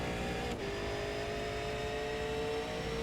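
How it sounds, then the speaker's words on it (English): A V8 Supercar race car engine drones through a lap at the Americas 2016 round, heard as a steady, far-off mechanical tone that holds constant throughout with a slight pitch shift near the start. "Let's listen in for a lap there, Kane, and see what we can get out of Ethan"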